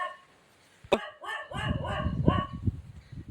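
A dog barks several times in quick succession at close range, a sharp yelp followed by a run of four or five barks with rough noise beneath.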